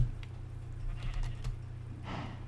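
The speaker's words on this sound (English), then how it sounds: "My sheep are still there." Sheep bleat in Minecraft, a few short bleats standing out over a low steady background hum, with light clicking sounds scattered through.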